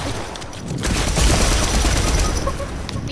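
Dense automatic gunfire from a Fortnite match rattles loud and continuous, swelling after a brief lull into a sustained burst of rapid shots.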